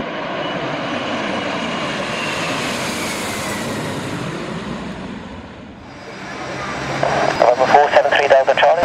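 Douglas C-47 Dakota propeller aircraft making a low pass over a runway, a steady loud drone that swells and fades, then a closer, rougher engine rumble with pulsing beats near the end.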